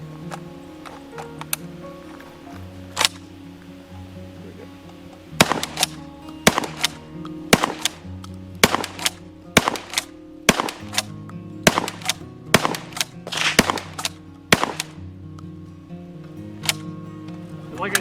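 Pistol shots fired using modified SAP 6 magazines, a string of sharp, loud single cracks at an irregular pace, sparse at first and then coming in quick succession through the second half.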